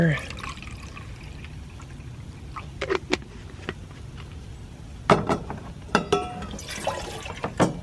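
Water trickles and splashes into a Stanley camping cook pot beside a camp stove, with a soft steady pour broken by a few brighter drips and sloshes, close by.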